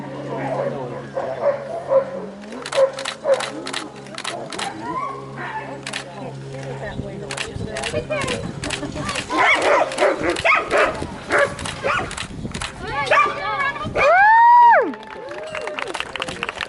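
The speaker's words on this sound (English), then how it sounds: "Sled dogs have been used in Denali since 1922, and they continue to be our best option for winter transportation." Sled dogs in Denali National Park bark and yip repeatedly in an excited, irregular chorus, with people talking and a brief whistle-like cry over the barking.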